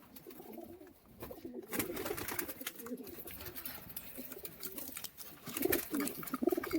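Pigeons coo in their loft, soft throaty calls rising and falling close by, with louder bursts near the end over a low indoor background.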